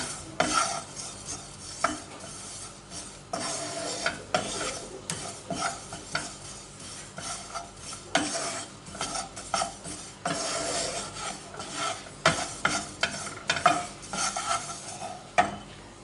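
Sesame seeds are roasted in a pan, stirred with a utensil that scrapes and rattles against the metal in repeated bursts over a light sizzle.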